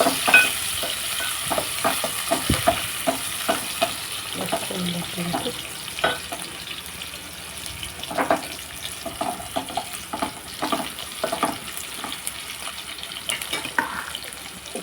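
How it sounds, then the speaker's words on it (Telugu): Onions frying in a pan for a meal with moong dal rasam and okra fry, giving a continuous sizzle broken by light spatula stirring and clicks. "ఉల్లిపాయ వేస్తాను"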